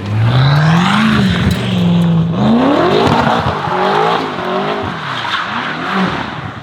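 BMW M5 cars drifting, tires squealing loudly and continuously over a roaring engine that rises and falls, close and sustained with no talk.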